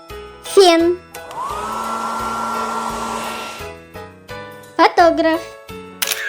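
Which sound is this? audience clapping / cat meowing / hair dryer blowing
hair dryer blowing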